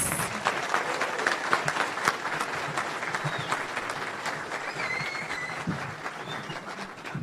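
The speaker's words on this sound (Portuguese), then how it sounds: "Convidamos neste momento, então, para proferir sua palestra, o ex-ministro Ciro Gomes, com uma calorosa salva de palmas" Warm applause from a union congress audience in São Paulo greeting former minister Ciro Gomes before his lecture, a dense sustained clapping with faint crowd murmur and a few stray voices underneath.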